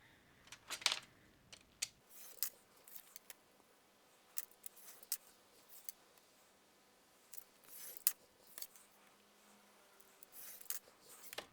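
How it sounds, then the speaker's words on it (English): Scissors trimming the edges off paper, a close series of crisp snips and paper rustles coming in irregular bursts across the stretch, quiet and alone with no talking. "So I'm going to start by cutting out or cutting off the edges"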